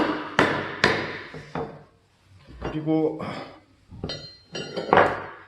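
Steel hammer striking a metal holdfast clamp in a woodworking shop, a series of sharp metallic clangs in irregular rhythm with a person speaking between the blows.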